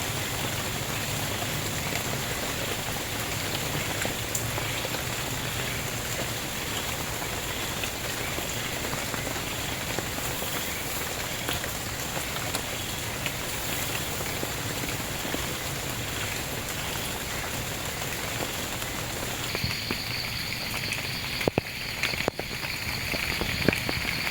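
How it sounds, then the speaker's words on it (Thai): Steady rain hisses continuously on surfaces for a long stretch as it eases off, with scattered drips standing out near the end. "ตอนนี้ฝนก็เริ่มจะซาลงแล้วนะครับ"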